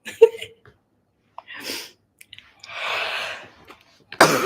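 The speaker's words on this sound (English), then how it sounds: "I'm gonna sneeze." A few sharp intakes of breath build up, followed by a loud, breathy sneeze close by.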